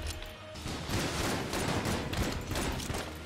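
Dense, continuous gunfire from the video game Enter the Gungeon, rapid overlapping shots and impacts forming a steady roar of moderate loudness throughout.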